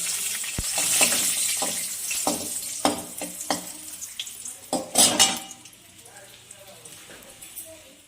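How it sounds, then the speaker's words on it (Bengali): Nigella seeds and two dried red chillies tempering in hot oil, a bright crackling sizzle with sharp pops and a few stirring scrapes, loud at first and then fading to a quieter simmer. "তেলের মধ্যে আমি কালো জিরা ফোড়ন করে নিলাম আর দুটো শুকনো লঙ্কা দিয়ে দিলাম"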